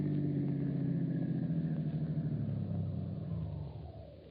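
A car in a radio drama pulls into a workyard garage beside a truck, a steady close engine rumble that fades at the end, with no voices.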